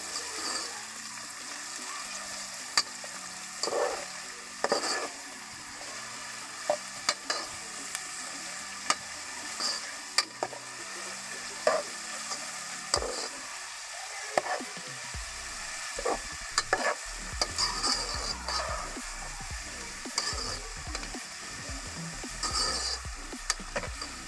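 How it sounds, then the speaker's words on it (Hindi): Sliced onions frying in a pan for carrot, potato and pea curry: a soft, steady sizzle broken by frequent spatula taps and scrapes, close but moderate in level, with the frying growing fuller partway through and no talking. "इसमें भूनेंगे।"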